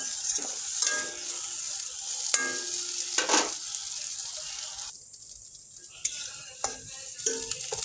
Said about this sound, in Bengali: পটলটা একটু ভাজা হোক তো পটলটা ভাজা হয়ে গেছে